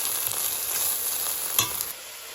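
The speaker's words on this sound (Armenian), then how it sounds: "ալյուրին եւ սոխին ավելացնում ենք տոմատի մածուկը։" Tomato paste stirred into flour and onion in a pan while making borscht, giving a steady close sizzle with a spoon scrape or two, and no one talking.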